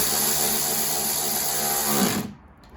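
A cordless power drill whines steadily while working on plastic radiator parts of a 2013 Dodge Avenger 2.4, loud and close, then cuts off abruptly near the end.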